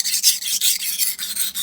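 A knife drawn across a coarse 220 grit King whetstone, bright gritty rasping strokes in a quick regular rhythm, about eight close scrapes.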